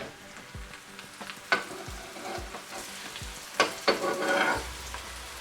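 Aloo paratha frying in ghee on a hot pan, a steady sizzle broken by sharp crackles and a few soft knocks and scrapes as it is turned, with a louder burst of spattering toward the end.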